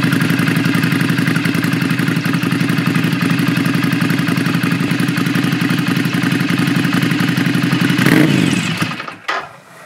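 Ducati Scrambler Urban Enduro motorcycle engine idling close by with a steady, dense mechanical chatter and throb, holding constant for about eight seconds before fading and cutting off near the end.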